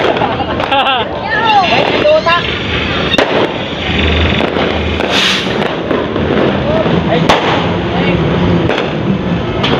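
Several loud firecracker bangs pop close by at irregular intervals during New Year's celebrations, amid excited shouting and people talking.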